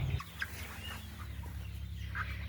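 Cornish Cross and Rhode Island Red chickens, 41-day-old meat birds huddled for warmth, give a few soft scattered clucks over a steady low hum, with no talk.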